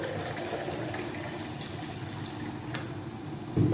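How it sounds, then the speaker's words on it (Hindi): Water poured from a glass into a cooking pot (handi) for Punjabi pakora karhi, a steady splashing fill running throughout at moderate level, with a louder splash near the end. "8 से 10 गिलास पानी डालूँगी"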